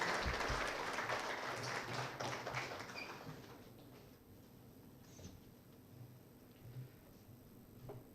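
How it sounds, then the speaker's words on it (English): Convocation ceremony audience applauding: a burst of clapping that starts fairly strong, thins out over a few seconds and fades to scattered faint claps and room noise. "with a big round of applause for his convocation message."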